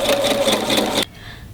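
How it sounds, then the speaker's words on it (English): A sewing machine stitching the bottom of the lining of a travel shoe bag, a close, steady buzzing whirr that cuts off abruptly after about a second, leaving quiet room tone. "So now I'm sewing the bottom of my lining here."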